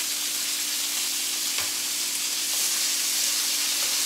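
Garlic, peppers and onions frying in a pan, with a steady, loud broadband sizzle and hiss throughout and a faint low hum underneath, plus a soft clink partway through.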